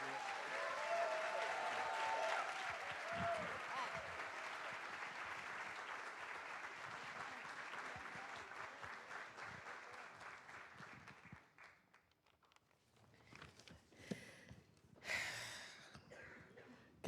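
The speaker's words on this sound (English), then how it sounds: "please give another big round of applause to Stefan and Damon" Audience applause at a public event on school integration, loud and sustained clapping for about eleven seconds before fading into scattered claps and quiet room noise.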